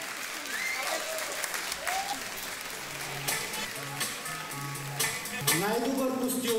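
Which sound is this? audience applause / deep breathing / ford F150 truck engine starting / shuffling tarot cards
audience applause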